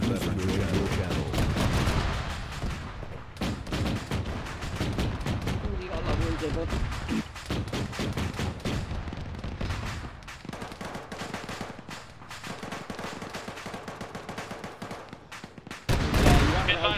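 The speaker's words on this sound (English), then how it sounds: "Sounds like enemy armor is engaging fallback position." Military video game combat with enemy armor firing at a fallback position: dense, continuous gunfire and heavy booming cannon blasts throughout, with radio voices talking over the battle and a loud blast at the end.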